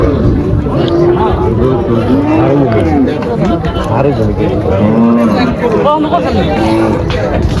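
Sahiwal cattle at a crowded Bangladeshi cattle market, with several loud drawn-out moos and bellows rising and falling one after another over constant crowd chatter and nearby talking.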